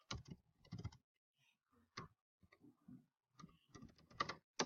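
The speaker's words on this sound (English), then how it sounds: "I'm having trouble typing." Irregular bursts of computer keyboard typing, clusters of sharp key clicks separated by short pauses, close and fairly quiet, with no voices.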